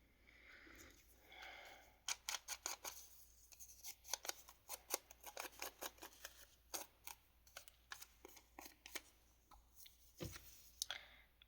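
Scissors trim the edge of a paper journal card to square it, giving a close series of crisp, rhythmic snips in bursts with short pauses and no talking.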